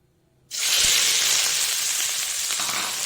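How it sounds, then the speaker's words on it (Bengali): Chopped onion hits hot oil with a sudden loud sizzle that starts after a brief quiet moment, then holds as a steady, bright frying hiss through to the end. "তেলটা বসিয়ে দিয়েছি তেলটার মধ্যে দিয়ে দেবো হলো পেঁয়াজ পেঁয়াজটাকে আমি কুচিয়ে নিয়েছি"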